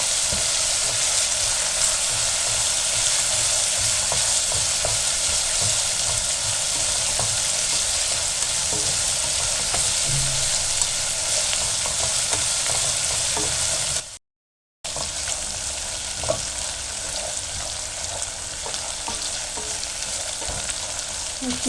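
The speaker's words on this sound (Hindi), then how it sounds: "इसमें लहसुन का कच्चापन आपने ख़त्म करना होगा और इसको बादामी यानी गोल्डन सुनहरी कलर होने तक फ्राई करना होगा" Chopped garlic frying in oil in a pan for garlic curry, a steady dense sizzle with occasional stirring scrapes running continuously, broken once by a brief silent gap.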